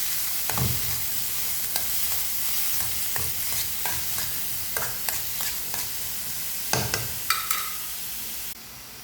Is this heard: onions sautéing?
yes